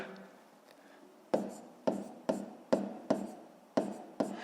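A pen scratches out digits by hand while working a long division problem, giving a series of short, crisp strokes in an uneven rhythm, close and quiet.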